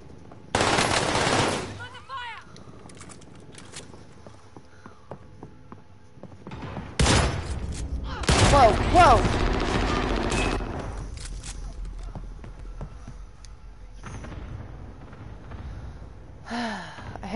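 Shotgun blasts ring out in a first-person shooter match, with loud bursts of gunfire in separate volleys between quieter game ambience.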